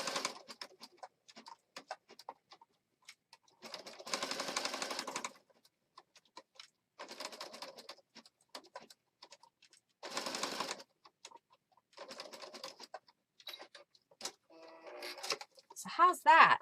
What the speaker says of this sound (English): Again, I'm just using the zigzag stitch.